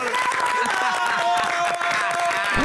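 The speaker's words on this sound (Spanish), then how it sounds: "Primero, fuerte aplauso, por favor" A television studio audience claps and cheers, with steady applause and voices mixed throughout.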